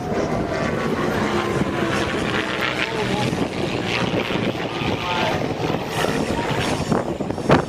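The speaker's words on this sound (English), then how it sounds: "Trainer aircraft that has trained more pilots than any other airplane is the North American Aviation T6 SNJ." A North American Aviation T-6 SNJ trainer flies at a warbird airshow, its propeller engine droning steadily at mid distance beneath an announcer's talk and crowd noise.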